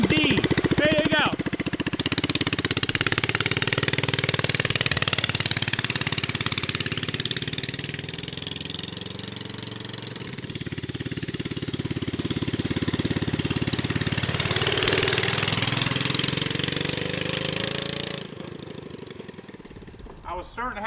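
Go-kart engine with a reverse kit fitted, running loudly and close with a rough, revving drone that rises and falls, while people talk over it, ending as the engine cuts out.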